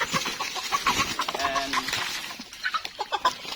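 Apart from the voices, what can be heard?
chicken clucking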